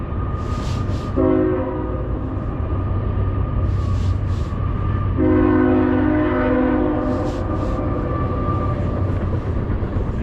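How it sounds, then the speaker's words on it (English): A loud train horn blasts twice over the heavy rumble of a passing train beside the Mississippi River, with the rolling noise continuing between the blasts. "There's the train."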